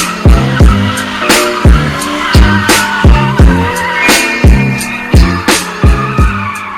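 A Nissan 370Z does donuts, its tires squealing loudly in repeated rhythmic bursts, each with an engine surge. The close, harsh squeals come at roughly half-second intervals.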